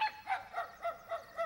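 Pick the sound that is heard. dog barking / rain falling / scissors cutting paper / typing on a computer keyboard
dog barking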